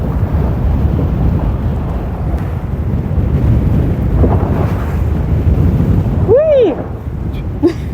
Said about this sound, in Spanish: Y está corriendo una brisa que es bastante fría.